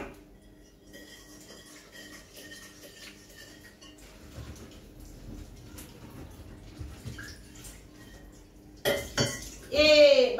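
A small cooking pot is picked up and handled in a kitchen, with faint clinks and rattles among quiet background noise, then louder metallic clatter and water sounds at the end.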